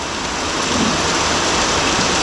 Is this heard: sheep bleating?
no